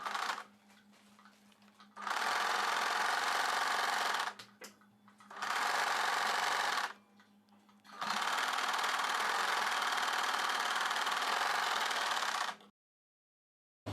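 A sewing machine stitches a cross-cut boat-neck blouse, running in three loud, steady bursts separated by short pauses, with a quiet stop near the end.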